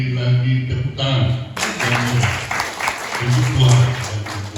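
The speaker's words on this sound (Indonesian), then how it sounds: "Kita beri lagi tepuk tangan" A church congregation breaks into applause during a worship service, a burst of clapping that rises midway and carries on under a speaking voice.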